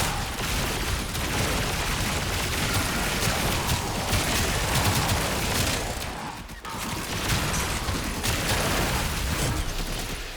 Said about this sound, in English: You shoot the ground, it just hits the environment.